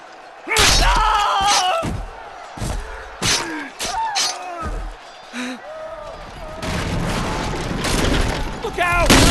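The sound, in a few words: gunfire in a Game of Thrones video game on Android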